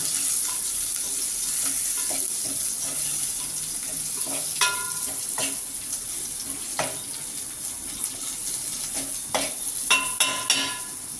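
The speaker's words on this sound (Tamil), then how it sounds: "இப்போ கருவேப்பில்லை ரெண்டு மிளகாய் மருமிளகாய் போட்டு வதக்கிக்கிறோமா" Curry leaves, green chillies and dried red chillies sauté in hot oil for sambar, a steady hiss of frying running throughout with occasional scraping taps from a ladle, growing more frequent toward the end, close by and without talk.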